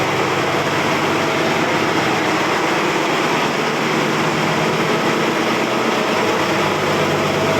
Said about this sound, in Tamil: ஜென்ரேட்டு சவுண்டு காதை கிழிக்கும்.